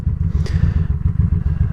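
A motorcycle idles in first gear as the clutch is slowly let out, a steady low rhythmic engine thump close by with a faint clatter, no throttle applied.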